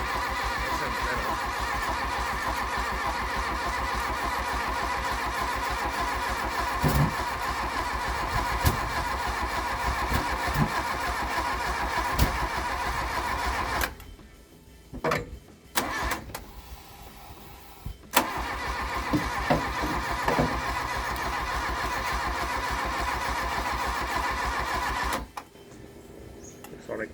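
A Mk1 Volkswagen Golf found in a paddock is cranked over at length, the starter churning in a loud rhythmic whir close by. It pauses twice briefly, then resumes without the engine catching.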